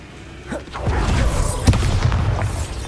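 Bombarda explosion spell cast against a troll in Hogwarts Legacy, a loud booming blast with a sharp peak midway over sustained rumbling low-end noise.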